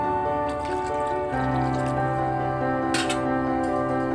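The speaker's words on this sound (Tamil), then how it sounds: "இப்போ தேவையான அளவு தண்ணியை ஆட் பண்ணிக்கலாம்" Water goes into a pan of chicken curry with ginger-garlic paste, making a continuous, close trickling and splashing wash with a brief louder splash near the end.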